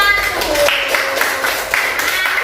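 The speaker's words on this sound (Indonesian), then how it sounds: "Coba tepuk tangan buat kelompok 1." Schoolchildren in a classroom clap for a student group, a loud, close burst of quick, slightly uneven handclaps with a few young voices mixed in.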